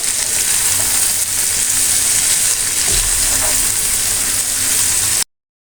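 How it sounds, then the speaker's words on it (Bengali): Ridge gourd bhaji frying in a pan gives a loud, dense, continuous sizzle with a faint stir or two, heard up close until it cuts off sharply near the end. "ভাজিটা খুব সুন্দরভাবে করতে হবে, কোনো রস থাকলে হবে না। ভাজতে ভাজতে অনেকখানি কমে আসবে।"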